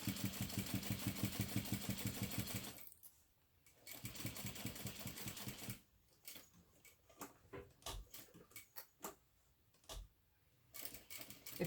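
A sewing machine stitches in fast, even bursts around the curves of a zippered ID case, pausing several times between short runs.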